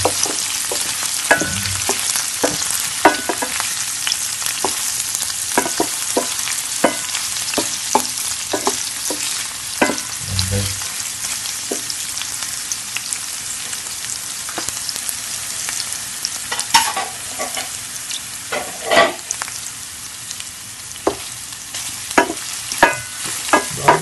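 Garlic, onion and ginger sizzle steadily in hot oil for squid in shrimp paste, with scattered clicks and scrapes of a spatula stirring the pan throughout and no voices.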